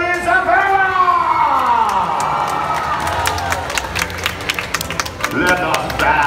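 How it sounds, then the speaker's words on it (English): A large crowd at Medieval Times cheers loudly for the host, a dense swell of shouting, whooping and clapping from a big audience, with an amplified announcer's voice over the start of it. "raise a mighty cheer for your host"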